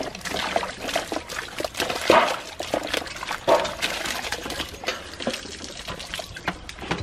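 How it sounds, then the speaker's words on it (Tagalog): Water is poured out in uneven splashing, trickling bursts at close range, with a couple of sharper sloshes mixed into a busy outdoor background. "binuhusan kasi nilang tubig"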